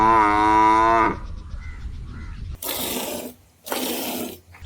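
A mother water buffalo in Sri Lanka moos loudly and close by in answer to a call, one long deep bellow followed by two shorter, rougher calls with brief pauses between.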